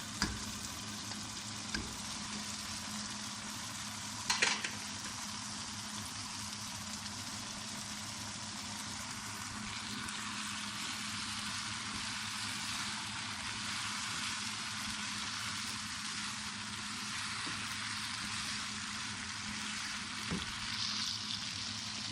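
Macaroni for chicken macaroni fries and is stirred in a pan, giving a steady sizzle that lasts throughout, with a couple of brief spoon clinks early on and no talking.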